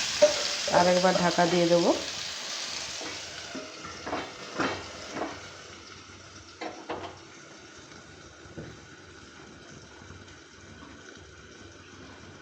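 Brinjal slices frying in a pan over high gas flame, a soft sizzle with a few clinks and stirring knocks early on, fading quieter as a voice briefly speaks.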